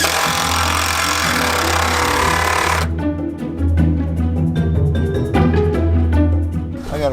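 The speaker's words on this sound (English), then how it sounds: "See how I cut the pallet right here?" A power saw cutting through a wooden pallet on an old Ford F-150 truck build, a loud close buzzing grind for about three seconds that stops, followed by lower knocking and rattling handling noises.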